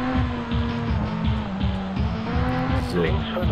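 A rally car at full throttle in Sébastien Loeb Rally Evo: a loud, continuous engine roar with rapid repeated rev surges and tyre noise, while a player talks over it.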